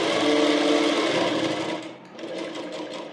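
A sewing machine runs steadily while stitching a lock stitch on an umbrella frock, a close, loud whirring drone that dips briefly and then resumes at a slightly lighter pace.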